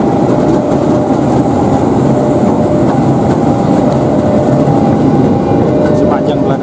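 A train rolls through a railway level crossing along an Indonesian commuter line near Manggarai, a loud continuous rumble of wheels and cars filling the whole stretch with faint clicking on top.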